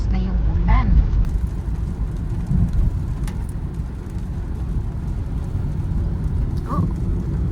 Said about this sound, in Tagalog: medyo lumalakas-lakas na yung ulan.